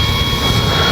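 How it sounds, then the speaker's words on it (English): A Dynam F6F Hellcat RC warbird plane roars past close by, a loud steady whine of its electric motor and propeller filling the whole second. "Plane."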